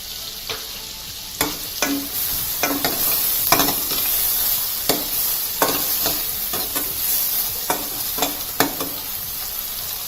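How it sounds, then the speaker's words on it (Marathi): Onions sautéing in a pan for Mumbai-style pav bhaji, a continuous bright sizzle punctuated by repeated crisp spatula scrapes and stirs, close up with no voices. "कांदा हलकाच परतून घ्यायचा आहे. थोडा नरम करायचा आहे"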